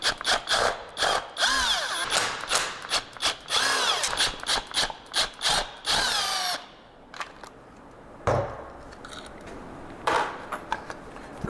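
A power driver whirs in repeated short bursts as it backs out 4mm Allen screws from the clutch cover of an MV Agusta F3 motorcycle. The bursts are close and loud, separated by brief pauses, and the clip ends quieter with a few more bursts.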